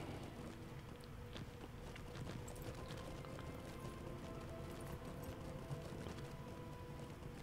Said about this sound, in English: Oh, you're riding a horse.